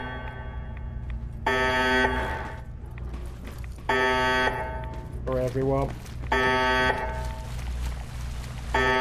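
Loud electronic alarms blaring in Fallout 4, repeating harsh buzzing tones in three long bursts with a shorter wavering tone between, someone talking underneath.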